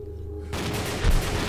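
Shotgun blasts in the winter survival shooter Heat Guardian, a loud burst of gunfire kicking in after a quiet start with a heavier booming hit near the end, backed by a steady game soundscape.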